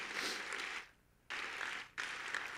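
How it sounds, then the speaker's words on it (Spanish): A church congregation applauds in two broad bursts of dense clapping, broken by a short near-silent gap. "Dale un aplauso fuerte a Jesús"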